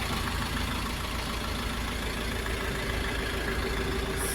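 A Dongfeng 404 tractor engine idles steadily at close range, a constant even rumble with no changes in pace and no voices.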